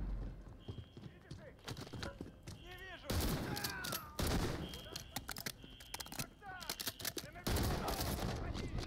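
Gunfire in a Call of Duty Modern Warfare 3 campaign mission, bursts of shots recurring through the scene with loud hits and busy game effects, a voice speaking briefly among them.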